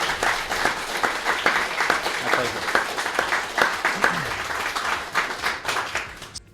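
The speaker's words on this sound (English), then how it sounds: "let's give a round of applause for" A room audience gives a round of applause at a talk event, steady crisp clapping at moderate volume that tapers off, with a brief spoken thanks heard over it.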